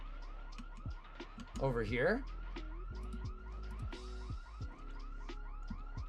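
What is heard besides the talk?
car alarm in video game Ghouls' Apocalypse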